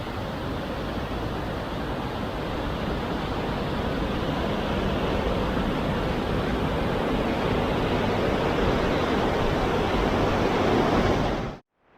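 Rough, choppy ocean surf at a beach in Tahiti crashes and hisses as a constant loud wash of broad noise, with wind buffeting the microphone until it cuts out abruptly at the end.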